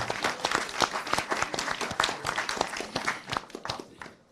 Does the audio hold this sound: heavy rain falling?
no